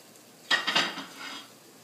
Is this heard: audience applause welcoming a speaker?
no